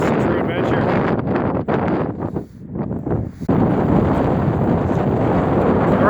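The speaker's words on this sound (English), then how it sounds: "we're into some pretty good blowing snow here" Strong wind roars across an open snowy area during a snowstorm with blowing snow, a loud continuous rush buffeting close on the microphone, easing briefly in the middle before surging back at full force.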